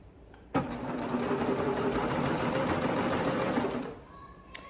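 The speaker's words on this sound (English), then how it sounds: "we go ahead and sew on all the way to the front point" A sewing machine sews leggings in one continuous close, loud run of rapid stitching lasting several seconds, stopping abruptly and followed by a small click.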